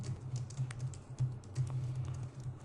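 Soft clicking of computer keyboard keys in short irregular bursts while Java applet code is written, close and fairly quiet with no voices.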